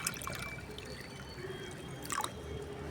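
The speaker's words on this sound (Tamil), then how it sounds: "இந்த பாருங்கள் இதில் ஊற்றிடுறோம்" Banana flower peel and fermented batter fertilizer mixture poured into a container, a faint trickle and drip of liquid with a short splashy burst toward the end.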